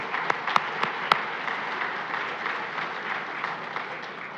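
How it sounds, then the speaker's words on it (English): Conference audience at an international World War II conference clapping, a few sharp claps at first giving way to steady, soft, distant applause that holds through to the end. "So let's give all of those that participated in that program today a round of applause."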